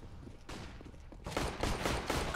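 Rapid pistol fire from P250s in a Counter-Strike match on the Mirage map, a quick string of sharp, close shots that gets louder and denser in the second half, with game ambience underneath.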